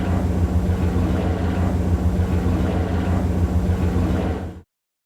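A helicopter with a white middle section flies overhead over Los Angeles, a steady loud low rotor and engine drone, constant and close, cutting off abruptly near the end.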